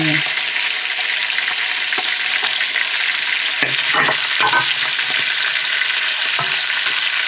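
Food frying in a pan with a steady, close sizzle, broken by scraping knocks from a spatula or spoon being stirred through it, with no talk over it.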